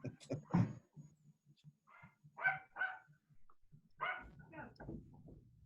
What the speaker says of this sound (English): it just sounds like there's a dog barking there